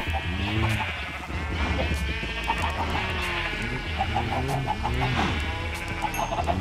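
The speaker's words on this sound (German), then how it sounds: "Passives Hühnerschlachten." Minecraft chickens cluck in repeated short bursts amid a busy mix of other blocky farm-animal bleats and game noise, steady and moderately loud throughout.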